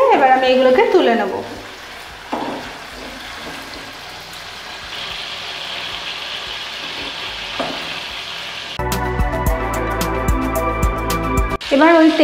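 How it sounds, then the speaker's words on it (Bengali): Prawns fry lightly in hot oil with a steady, soft sizzle, followed by a stretch of louder clattering stirring in the pan. A voice speaks briefly at the start and end. "চিংড়ি মাছটা খুব হালকা করে আমাদের ভেজে নিতে হবে"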